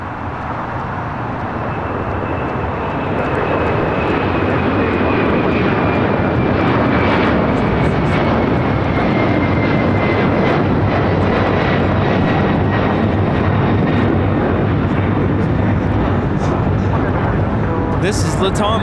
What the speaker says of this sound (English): This is Latam Airlines 2479 taking off to Lima, Peru on a 767-300ER